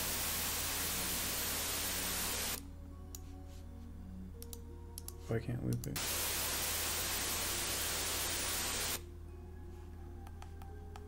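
Harsh distorted noise generated in an audio editor for a horror game jump scare roars in loud, flat bursts that start and stop abruptly. A brief spoken remark comes in the quiet gap.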